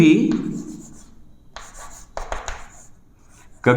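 Handwriting during a Hindi chemistry lesson on atomic number and mass number, with short scratchy pen strokes in bursts, fairly close and moderately loud, and some quiet gaps between them.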